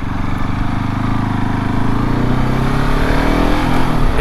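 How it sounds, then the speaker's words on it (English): A KTM 690 Enduro R single-cylinder motorcycle engine pulls under throttle, its throbbing note climbing steadily in pitch as the revs rise, loud and close, with no talking. "It's definitely a Jekyll and Hyde bike, this, but all depending on how you, as a rider, do the throttle"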